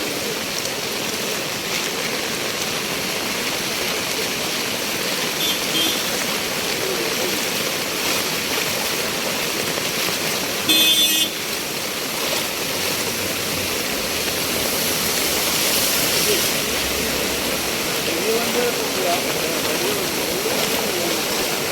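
Strong floodwater rushes over a washed-out road at Thottupalam in Kannambra during flood-like conditions, a steady, loud, broadband roar that continues unbroken throughout.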